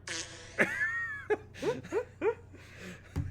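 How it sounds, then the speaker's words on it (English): Fart sound effects played over a live streamer's microphone: a string of short, squeaky and wet bursts of varying pitch, close and fairly loud, spaced irregularly across a few seconds with no talk. "We're fart sound effects on the mic."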